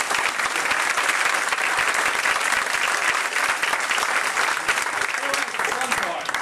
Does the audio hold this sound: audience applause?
yes